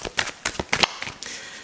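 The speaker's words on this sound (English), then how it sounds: "I'll be shuffling these out," Tarot cards being shuffled by hand, a quick burst of several crisp riffling flicks up close, followed by a softer sliding rustle.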